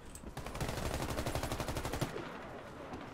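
Rapid automatic gunfire from the online shooter Warface rattles in fast, regular bursts for about two seconds, loud and close, then fades into quieter game ambience.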